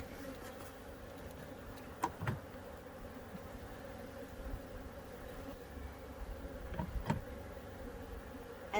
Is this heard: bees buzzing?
yes